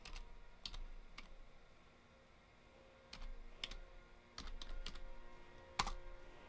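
Keys clack on a computer keyboard while a Skyrim cheat is typed, a quiet scattered series of clicks in short clusters, with no voices.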